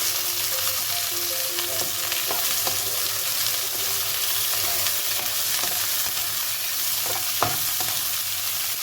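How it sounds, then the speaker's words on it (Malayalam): Green chillies and curry leaves frying in oil in a pan, a dense continuous sizzle with occasional scraping stirs and light clicks of the spoon, close and without talking. "പച്ചമുളകും ഇടാവേ, കരിയാപ്പിലും കൂടെ ഇളക്കി കൊടുക്കാം."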